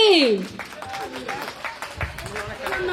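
A crowd claps for a crest award presentation at a stage event, a scattered patter of hands that swells after a swooping tone, with voices over it.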